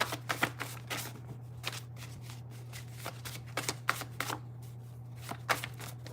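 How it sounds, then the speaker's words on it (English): Cards from a basket being shuffled and pulled out, a run of quick crisp riffles and flicks in irregular bursts, close and fairly quiet over a steady low hum. "I'm going to pull a couple out of what is left out of the basket cards."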